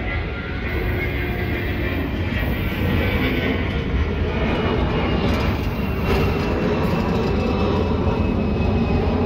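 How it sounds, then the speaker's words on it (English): An airplane passes over near Dorval, a broad steady engine roar that swells slightly midway, loud and continuous with no talk. "here at Dorval, lots of planes."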